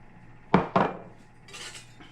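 A utensil mixing salt, baking soda and baking powder in a bowl: two sharp clinks close together, then a soft, brief scraping stir, quiet and close.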